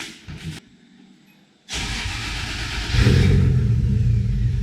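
A 1JZ VVTI engine in an S13 coupe cranks briefly, falls quiet, then fires up with a loud burst and settles into a rough idle before rising into a heavier, louder rev near the car.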